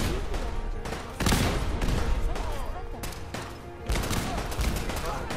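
Dense bursts of rapid gunfire and explosions from a Fallout 4 firefight, loud and continuous, with a voice talking over the shooting.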